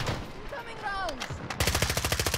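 Rapid automatic gunfire in the Warzone video game, a dense stream of sharp shots that grows loud and steady toward the end, with a voice speaking over the earlier part.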